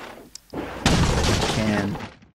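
A wooden barrel smashed with a knife in Resident Evil 4, a short rising rustle followed by a loud, close crunching break that fills about a second before fading.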